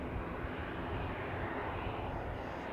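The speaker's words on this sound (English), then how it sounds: "We've got Ryanair 737-800 going to Cork, registration EI EKM." A Ryanair Boeing 737-800 waits on the runway at Manchester Airport, ready to depart, its jet engines giving a steady, faint, distant roar with no other sounds.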